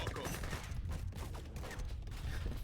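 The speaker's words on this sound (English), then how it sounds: "Rangers are going to get absolutely destroyed by the Gatling guns" Dense, continuous gunfire from Gatling guns in a multiplayer video game battle around a fort, a steady rattling barrage filling the whole stretch with faint voices mixed underneath.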